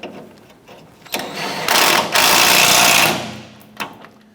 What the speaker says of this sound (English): let's go ahead and tighten down the nut.